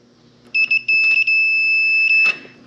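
A multimeter set to continuity beeps while probing a Speed Queen dryer thermostat, giving a loud, close, high steady tone in several short bursts followed by one longer sustained beep.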